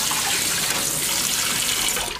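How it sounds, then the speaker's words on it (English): Tap water runs hard and steady into a kitchen sink as dishes are rinsed, a loud, continuous close-up splashing rush that tapers off at the very end. "This is going to get really loud, but I'm going to rinse the whole thing out."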